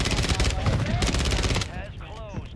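Rapid bursts of video game gunfire, loud and close, rattle like automatic weapons for over a second before tapering off, and a voice then speaks over the fading action.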